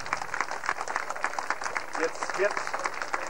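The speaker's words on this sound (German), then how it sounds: "Und das ist euer Applaus." Applause breaks out at a volunteer fire brigade open day in Neuhofen, a mix of clapping and crowd noise with a voice speaking briefly over it.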